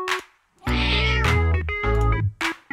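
A cat in a convenience-store video game gives a series of loud, close meows, one drawn-out call between short chirps, clear and alone.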